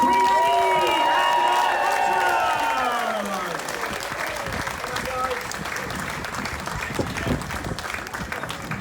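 A pool deck crowd at a Neptune's Domain ceremony cheers and applauds loudly for King Neptune, with whoops and voices mixed into steady clapping that holds through the clip.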